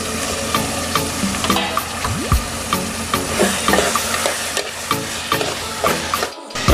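Onions and tomatoes for a prawn curry sizzling in a pan while being stirred: a steady loud frying hiss broken by repeated scraping spoon strokes, close up, with no talk.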